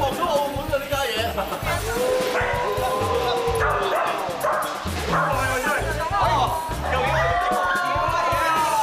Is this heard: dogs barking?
yes